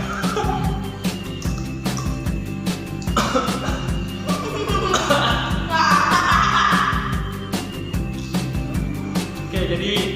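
Repeated harsh coughing fits after eating kerupuk crackers, loud and close, coming in rapid bursts with short pauses over about ten seconds, with a few rasping, wheezy breaths in between.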